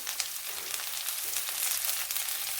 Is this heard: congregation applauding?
no